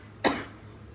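A man coughs twice, about a second apart. The coughs are close and moderately loud, with no talk around them.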